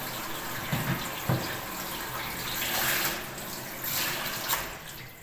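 A kitchen tap runs water over vegetables being washed, a steady close splashing flow with a few louder bursts and knocks as the produce moves under the stream.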